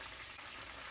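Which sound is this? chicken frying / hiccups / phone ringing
chicken frying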